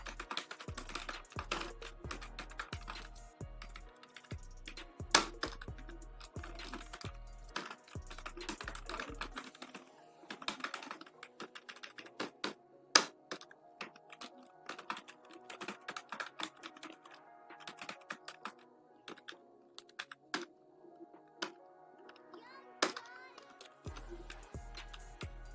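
Typing of HTML tags on a computer keyboard: quick irregular key clicks and occasional louder taps, fairly faint and steady throughout, with a low hum in parts and a voice talking quietly.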